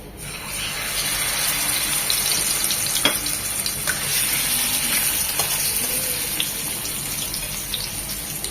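Koi fish fry in mustard oil in a pan with a loud, constant close-up sizzle and crackle, broken by a few sharp spatters and faint stirring.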